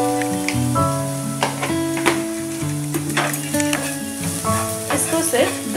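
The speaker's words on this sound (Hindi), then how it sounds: "ओनियन, कैरेट एंड स्प्राउट को थोड़े टाइम के लिए फ्राई करने के लिए रखा हुआ है" Onion, carrot and sprouts fry in a pan with a steady sizzle and occasional stirring clinks, while sustained musical tones play loudly over the cooking sounds.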